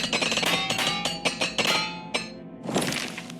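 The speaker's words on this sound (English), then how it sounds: "Let's use a repair hammer real quick." Sharp metallic clinks and thunks from the repair hammer in the video game Oblivion Remastered, several quick strikes in a clustered rhythm followed by a final louder hit.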